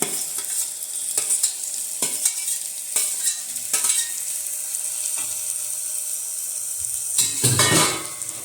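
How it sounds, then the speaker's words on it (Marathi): Vegetables being stirred into a masala in a frying pan for a Kolhapuri kurma, with a steady sizzle and repeated scraping strokes of a spoon against the pan at close range, no talking. "सगळे आता भाज्या एकत्रितपणे आपण या मसाल्यात अशा पूर्णपणे अशा मिक्स होतील या पद्धतीने हलवून घ्यायचं आहे"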